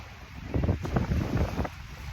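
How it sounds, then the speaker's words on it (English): Wind gusts buffet the microphone in a low, rumbling roar that swells and fades over a couple of seconds, with no voices, beside Lake Winnipesaukee in New Hampshire. "And as you can see, it's a bit windy."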